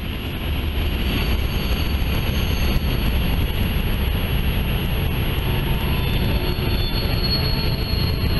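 A heavy BNSF or Union Pacific freight train with GE Evolution locomotives rumbles past nearby in the Columbia River Gorge, a dense continuous roar of wheels and engine with occasional metallic squeals.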